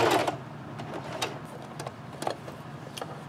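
Short bursts of sewing machine stitching and back stitching on a scrub cap, a few quick runs fading into quieter mechanical clicks, close up with no voices.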